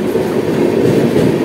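Inside a crowded unreserved Delhi–Haridwar Express coach, a passenger train overtakes alongside. A loud, continuous roar of wheels and carriages fills the space with no pauses.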